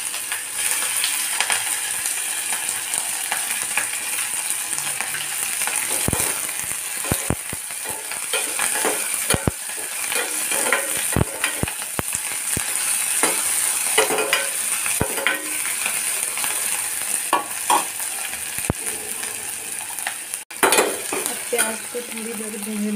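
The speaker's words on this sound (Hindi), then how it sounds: "प्याज को थोड़ी देर भूनने देंगे" Onions with curry leaves frying in a pan, a constant sizzling hiss broken by irregular clinks and scrapes of a metal spoon against the vessel, some sharp knocks in bursts and a louder clatter near the end.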